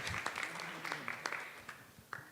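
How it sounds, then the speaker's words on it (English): Scattered audience clapping at a campaign event, a thinning round of individual claps with faint background voices, tapering off over a couple of seconds. "Keep clapping."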